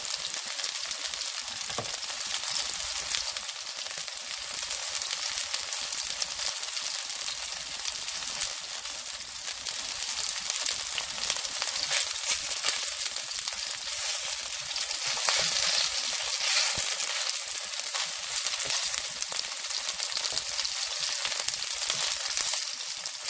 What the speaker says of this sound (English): I think I need to do the process again where you put the oil in it and let it bake